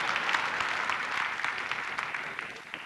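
A live audience at a comedy show applauds in a dense, steady wash of clapping that holds at a moderate level throughout, with no voices on top.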